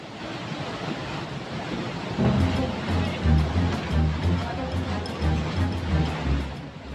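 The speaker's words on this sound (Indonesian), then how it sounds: "Beginilah detik-detik datangnya air di Sungai Kalijompo yang direkam warga Kelurahan Gebang, Kecamatan Patrang, Jember" Flash flood water rushes down the Kalijompo river in Gebang, Patrang, Jember, a loud continuous churning roar with surging pulses and gusty wind noise on the microphone, with no talk heard.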